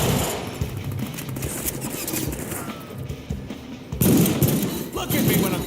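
Rapid gunfire in the 2013 Deadpool PC game: dense automatic bursts rattle steadily throughout, with someone talking over the shooting.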